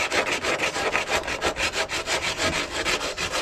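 A quartz stone scrapes coating off a wall in quick, rhythmic strokes, about four per second, loud and close with a rough, gritty rasp and no talking.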